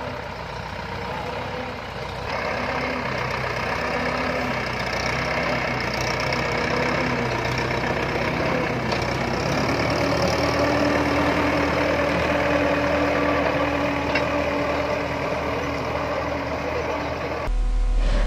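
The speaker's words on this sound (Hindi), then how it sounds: "अपने ही हरी भरी गेहूं की फसल पर ट्रैक्टर चला दिया" A tractor engine drones steadily while being driven over a green wheat crop in a farm field near Meerut. The running engine stays constant and fairly loud throughout, with faint voices beneath it.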